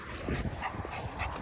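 Several dogs at a dog park in cold Finland, their barks, yips and whimpers in a steady close-up jumble over an outdoor background, with no talk.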